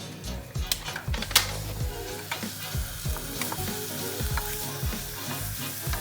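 Beef patties sizzle steadily in a hot pan, a dense crackling hiss with scattered pops and a few clinks of utensils.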